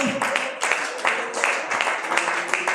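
A church congregation applauds during a Spanish-language service. Dense, uneven clapping swells in waves, with voices calling out over it.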